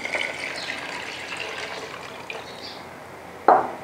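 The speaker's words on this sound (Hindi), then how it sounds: "इसमें अब यखनी डाल दें" Beef yakhni stock pours steadily into a cooking pot of tomatoes, green chillies, garam masala and yogurt, a continuous close liquid rush and splash that ends with a brief louder slosh.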